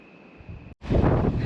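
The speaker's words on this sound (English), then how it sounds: "It's so windy, like incredibly windy" Strong wind buffets the microphone outdoors on a hiking trail in Nicaragua, a low rushing roar that briefly cuts out and then returns louder and gustier.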